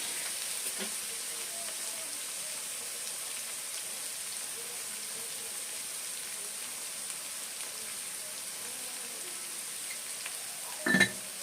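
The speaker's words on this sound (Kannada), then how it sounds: "ಈರುಳ್ಳಿ ಕಡಲೆ ಬೀಜ ಬೇಕು ನೋಡಿ ಇವಾಗ ಇದನ್ನು ಚೆನ್ನಾಗಿ ಫ್ರೈ ಮಾಡ್ಕೋಬೇಕು" Onions and peanuts fry in a pan for bansi rava upma with a constant low sizzle and crackle. A brief clatter of a utensil comes at the very end.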